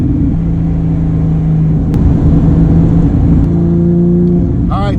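A Porsche 997.2 GT3 RS drives along at a steady, moderate engine note, a continuous low drone with slight swells in the first seconds, close and loud from inside the car without talk.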